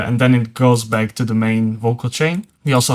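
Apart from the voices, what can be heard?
None of the usual background noises is heard.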